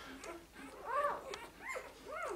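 Puppies of the Berger Blanc breed whimpering and whining, a few high, rising and falling cries in quick succession, fairly close and soft, with no voices over them.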